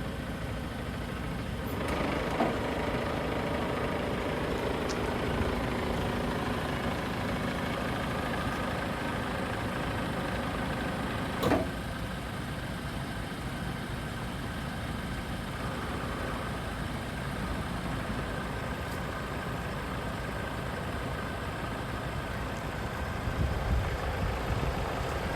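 A 2014 Land Rover Defender 2.2 TDCi carrying a 14.5 m Versalift crane runs at a steady diesel idle throughout, with a brief clank partway and a slight rise near the end, and no talking.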